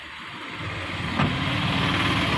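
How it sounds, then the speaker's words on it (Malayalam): Maruti Swift diesel engine idling roughly with a misfire, heard up close in the engine bay as a steady, loud, uneven rumble with a shaky, tractor-like throb and no talking. "സൗണ്ടിന് നല്ല മാറ്റമുണ്ട്. ഒരുമാതിരി ട്രാക്ടറിൻ്റെ സൗണ്ട് പോലത്തെ ഒരു അവസ്ഥയായി വണ്ടിയുടെ."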